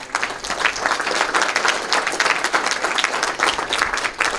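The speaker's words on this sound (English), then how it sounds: "I would like an applause for him." An audience at a workshop claps for a donor standing in the room, a dense, steady round of applause from many hands filling the space, loud and continuous throughout without speech over it.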